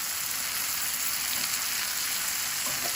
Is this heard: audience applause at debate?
no